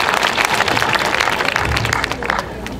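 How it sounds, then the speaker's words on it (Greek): Warm applause from a crowd at a Cretan cultural evening celebrating Ionian festivities, with dense, steady clapping that fills the room loudly and continuously throughout. "ζεστό χειροκρότημα για τους φιλοξενούμενούς μας"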